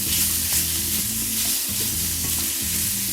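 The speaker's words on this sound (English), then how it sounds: "while my mushrooms are cooking" Mushrooms fry in a pan over medium-high heat with kosher salt and pepper, giving a steady, close, loud sizzle with faint stirring, continuous throughout.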